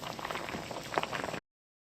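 Potatoes in a pot of boiling water bubbling and gurgling up close, a dense crackly simmer that runs steadily for about a second and a half before cutting off.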